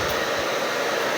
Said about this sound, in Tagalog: Blower pala ito.